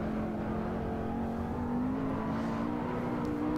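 A McLaren 12C engine in Assetto Corsa drones steadily around Silverstone, its pitch holding fairly constant with a slight rise, quiet and without voices.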